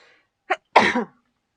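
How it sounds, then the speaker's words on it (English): A single sharp sneeze, a quick intake followed by a loud burst, close and alone in a quiet room. "I had to sneeze."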